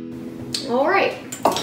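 Egg-decorating dye from a mermaid Easter kit is stirred in a bowl, a utensil clinking and scraping against the dish in a short quick burst while a voice speaks over it.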